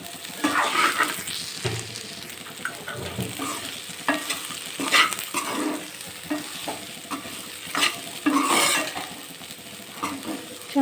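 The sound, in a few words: small bitter gourds being stirred while frying in a pan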